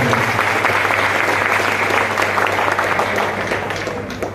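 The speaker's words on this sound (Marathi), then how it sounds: "एक जोरदार टाळ्यांचा गडगडाट" Loud, sustained applause from a crowd at a Vanchit Bahujan Aaghadi youth rally in Airoli, Navi Mumbai, a dense steady roar of clapping that holds for several seconds and eases slightly at the end.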